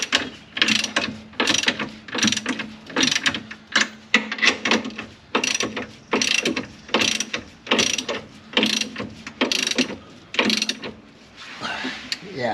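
A ratchet tightens nuts and bolts under a car's rear end, near the leaf spring perch. It gives about a dozen quick bursts of close, sharp clicking, each separated by a short pause.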